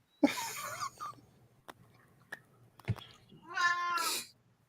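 A cat meows several times at close range, with a sharp call at the start and a longer drawn-out wail near the end, separated by quiet moments with small clicks.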